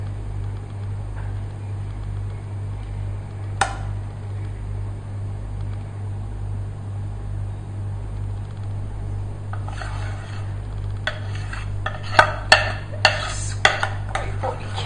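Lumpy chocolate cream pie filling being poured and stirred in a pan, with a low steady hum under it, then a run of sharp clinks and scrapes of utensil on metal near the end, close and without voices.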